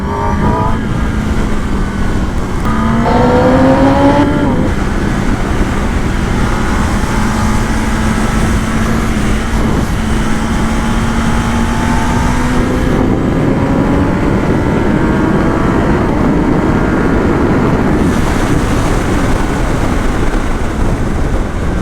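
A 2021 Kawasaki Ninja ZX-10R fitted with a new exhaust revs loudly and steadily, its engine note rising and falling through several pitch sweeps over a sustained roar.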